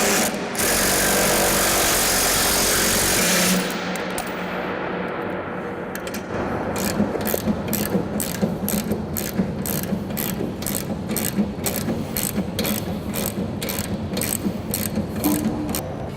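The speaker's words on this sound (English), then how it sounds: "And tighten the bolt." A ratchet wrench tightens a bolt on a grain bin paddle sweep, its quick metallic clicks repeating in a steady rhythm after a loud mechanical rumble fades, ringing close inside the bin.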